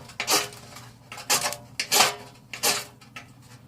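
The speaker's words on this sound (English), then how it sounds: "Scoot this back against the back of my pan here." Wood and metal scraping as tinder material is scooted against the back of a pan inside a Dakota fire hole, several short rough rubbing strokes, close and fairly loud with no talk.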